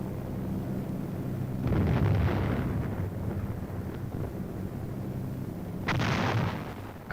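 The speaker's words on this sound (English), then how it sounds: "And heavy artillery barrages." Heavy artillery barrage in mountainous battlefield terrain, heard as two big rolling booms a few seconds apart over a steady low wind-like rumble, distant and heavy with no voices.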